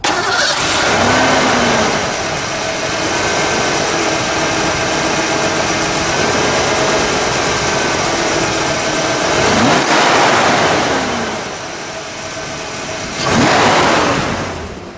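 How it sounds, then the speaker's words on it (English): A 1986 Mercury Capri RS 5.0 V8 engine turns over and settles into a steady, loud idle, with a brief rise in revs near the end. "We'll let it idle, and then we'll get a little exhaust note."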